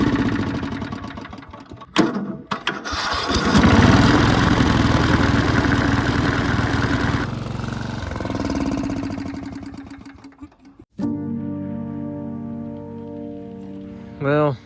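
Old Murray riding mower with a suspect carburetor sputtering to life, its small engine surging unevenly then settling into a rough, steady idle up close, with a brief pause and restart near the end and a voice talking over it.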